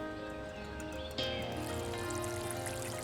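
Water suddenly starts gushing from a household supply, a steady pouring rush that begins partway through and continues under sustained background music.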